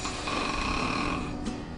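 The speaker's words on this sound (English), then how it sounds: "Snoring comes from a vibration in the airway that's normally due to partial blockage of the airway." A person snores in rough, buzzing drones, a continuous close vibration of breath through a partly blocked airway that fills the moment without any talk.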